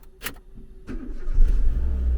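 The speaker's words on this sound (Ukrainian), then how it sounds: "Запускає двигунчик." Renault Megane 2 engine cranking and catching: brief starter clicks and whir, then the engine fires and settles into a loud, steady low idle rumble close by.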